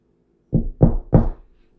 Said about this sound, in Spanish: El sonido en la puerta lo sacó de sus pensamientos